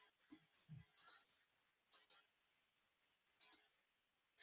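A few sharp, faint computer mouse clicks in small pairs and singles, close up and quiet, separated by short silences.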